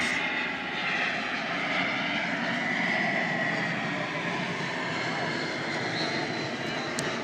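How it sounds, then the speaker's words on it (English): A JetBlue Airlines jet approaches overhead above a college soccer match, its engine roar a steady broad rumble that swells slightly and fills the air while people talk beneath it. "We have JetBlue Airlines coming towards us,"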